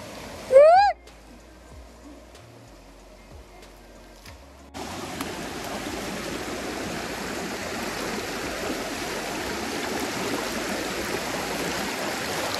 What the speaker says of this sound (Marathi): आपल्याला असा ओढा लागतो मध्ये